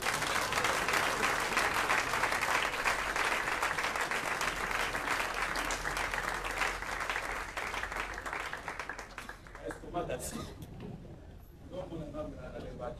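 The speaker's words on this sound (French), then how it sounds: "Est-ce qu'on peut acclamer pour..." A church congregation applauds together, a dense, steady wash of clapping that carries loudly for most of the stretch before thinning out near the end, with a voice speaking over it in the closing seconds.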